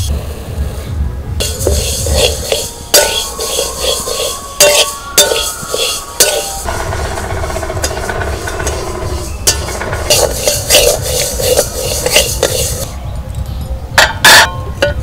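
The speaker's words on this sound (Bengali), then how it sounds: "ওই জন্য একটু ডালটা ভেজে নিচ্ছি।" Moong dal being dry roasted and stirred in a pan in a home kitchen, with repeated scraping and clinking of a utensil against the metal pan and a soft sizzle, close and fairly loud, no talk.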